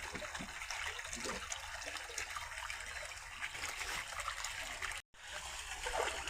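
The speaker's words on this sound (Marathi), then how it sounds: "हा आहे आपला छोटा ओढा" Water flows steadily in a small stream, giving a continuous soft trickling wash with no other sounds, broken by a short dropout near the end.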